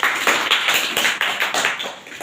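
An audience at a quiz contest applauds, a brief burst of steady, dense clapping at moderate volume with no voices over it.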